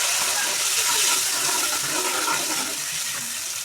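A little water pours into a pan of sea prawn curry, giving a loud, close rushing and hissing splash that fades slightly over a few seconds.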